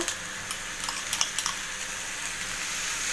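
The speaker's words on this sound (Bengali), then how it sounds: "এবার আমি এখানে আদা রসুনের পেস্টটা দিয়ে দেব।" Ginger garlic paste sizzles in a pan of fried onions, a soft steady fry broken by a few sharp clinks of a spoon stirring against metal early on.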